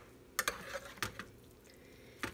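Soft, squishy stirring of a ground beef mixture for stuffed Mexican green peppers, a few faint wet scrapes and taps against the bowl in a quiet room.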